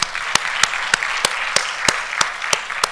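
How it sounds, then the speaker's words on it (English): An audience at a PFAS forum session applauds a conference panel, a steady wash of clapping with a few sharp, regularly spaced claps standing out near the listener. "Everybody will help me give applause out for our panel."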